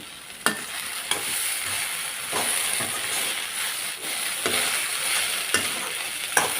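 Chopped okra stir-fries in a pan over a low flame, a steady close sizzle and hiss broken by several sharp spatula scrapes and taps against the pan.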